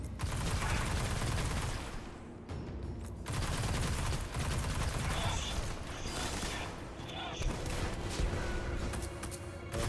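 Heavy weapon fire in the video game Destiny: dense, rapid bursts of shots rattle in long stretches with short pauses between them, loud and continuous and free of talk.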